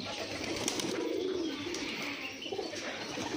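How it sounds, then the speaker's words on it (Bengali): Pigeons cooing softly as they fly in to a village yard on a foggy morning, a low steady murmur of calls over a continuous rural background. "এই যে ভিউয়ার্স, কবুতর আসতেছে।"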